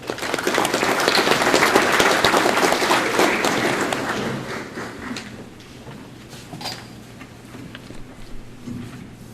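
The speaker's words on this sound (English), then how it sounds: "will you please give these guests a round of applause?" Guests at an FFA banquet are applauded, with loud clapping for about four seconds that then fades to scattered claps and room noise.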